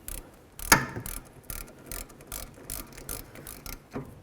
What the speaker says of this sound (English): Let's tighten this up using our 11 millimeter.